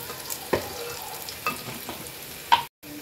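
Two chopped onions fry in a pan, a soft sizzle running under a few scattered spatula scrapes and taps, close and fairly quiet, ending in a brief dropout.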